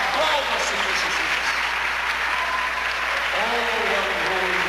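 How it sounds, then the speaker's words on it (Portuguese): Church congregation applauding steadily and loudly throughout, a dense wash of clapping with a voice speaking over it near the end. "Aplauda, Senhor Jesus"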